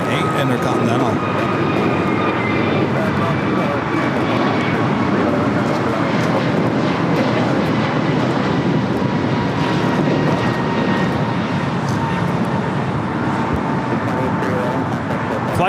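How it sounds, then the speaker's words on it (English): A Boeing 747-8 Intercontinental arriving from Frankfurt and landing on runway 24 right at LAX gives a loud, steady jet roar that holds for the whole stretch, with voices faintly in the background. "Next for arrival on 24 right. It's like 456 coming in from Frankfurt on the 747-8 Intercontinental."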